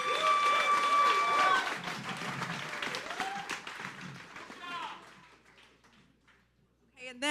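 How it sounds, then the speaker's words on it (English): An audience applauds a speaker at an evening event, a burst of clapping and crowd noise that mixes with talk and fades out gradually over several seconds. "A big round of applause for Bill."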